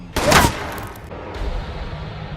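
Gunfire from the action film The Purge: Anarchy, a single loud, close gunshot that cracks sharply and then decays into a rumbling reverberant tail.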